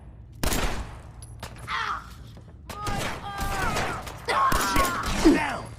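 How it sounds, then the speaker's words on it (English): Sporadic gunfire in Fallout 4, short shots and bursts spaced irregularly, with shouted in-game voices and other battle sounds around them at moderate loudness. "Need some cover fire over here!"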